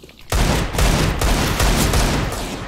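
Rapid gunfire from an Eagle pistol in a first-person shooter video game, with loud, dense overlapping shots that run almost continuously after a brief quiet start.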